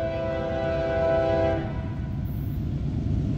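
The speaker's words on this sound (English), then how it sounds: "This is one of the newest heritage units CSX has now." A CSX heritage-unit locomotive sounds a loud, steady multi-tone horn for about a second and a half, with the deep rumble and clatter of the passing train continuing close by after the horn stops.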